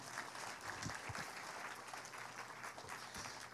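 A church congregation applauds in steady, full clapping that continues throughout the short stretch at moderate loudness, with a few sharper individual claps standing out.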